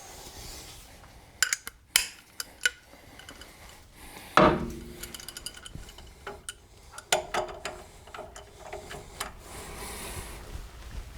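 Metallic clicks, scrapes and a few sharp knocks come from removing the upper ball joint nut on a 2000 Chevy Silverado's front suspension, an irregular sequence of close tool sounds without talk.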